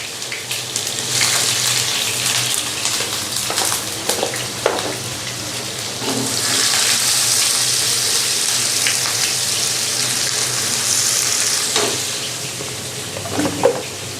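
Chopped onion frying in hot oil for keema with pointed gourd, a steady broadband sizzle that swells loudly midway and holds, with a few light clinks, no talking.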